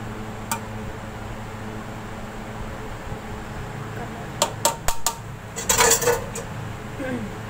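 A spoon scrapes and clinks against a metal pot while half-cooked rice is spread out for chicken biryani, quiet at first, then a cluster of sharp metallic taps and scrapes toward the end.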